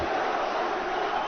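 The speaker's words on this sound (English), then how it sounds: "Crowd chanting for Islam Machaczev." Fight crowd chanting for Islam Makhachev, a dense, steady roar of many voices from an arena audience, continuous and fairly loud with no break.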